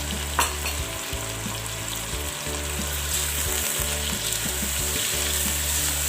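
Chicken nihari sizzles steadily in a pan with ground nihari masala and Kashmiri red chilli, a continuous close frying hiss with a low hum and faint stirring scrapes.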